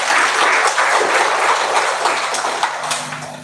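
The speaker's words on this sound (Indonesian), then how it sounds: "Tepuk tangan dulu untuk Ibu Bupati." A hall audience at the opening of a PGRI Sinjai teachers' conference applauds the female regent. The clapping is loud and full, then thins and fades toward the end.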